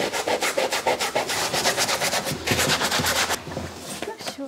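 Priest vestment fabric rubbed by hand during washing, a steady scrubbing swish repeating in quick strokes, fairly close and continuous.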